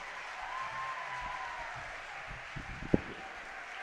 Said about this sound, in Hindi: एक बार जोरदार ताली बजा दीजिए अध्यक्ष महोदय जी के लिए।